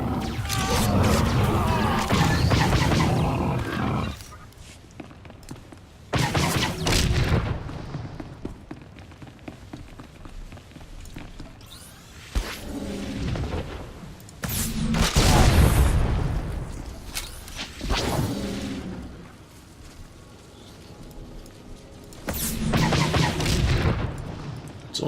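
Loud booms and crashing blasts go off in separate bursts as arms caches are destroyed in a video game, with quieter stretches of rumble and scattered impacts between them.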